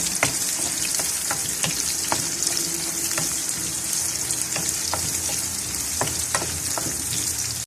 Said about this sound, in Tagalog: Mix lang natin guys hanggang mag-konting pula-pula siya.